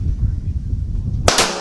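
A single loud, sharp Walther PPQ Q5 Match pistol shot is fired at a clay target outdoors, cracking near the end after a low rumbling lull.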